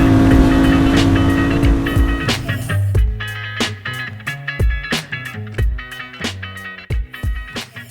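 A motorcycle ridden on a New York road revs near and loud, its engine note climbing, then breaking into choppy, pulsing throttle bursts and gear changes.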